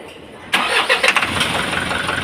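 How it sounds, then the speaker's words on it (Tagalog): An Isuzu 4HL1 diesel engine that had been hard starting cranks and catches abruptly, then settles into a loud, steady diesel idle with a few uneven pulses early on. "So, final start po natin. Sige po, start up."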